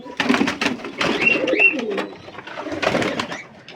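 Pigeons coo repeatedly in a loft during hot weather, soft throaty calls overlapping near and at middle distance, with some rustling and a few brief higher chirps among them.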